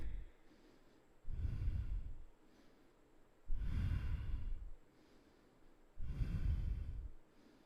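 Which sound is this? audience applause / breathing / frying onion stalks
breathing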